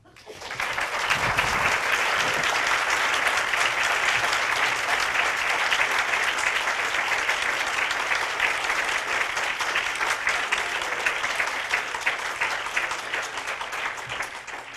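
An audience at a talk event applauds after a speaker's story, with dense, sustained clapping that swells quickly and holds evenly for the whole stretch.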